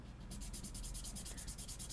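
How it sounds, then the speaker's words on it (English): A small sanding block rubs back and forth across two side strips of a model kit, a fast even series of about fifteen close, raspy strokes with no talking. "just take our little sanding block here and just kind of run these 2 across it"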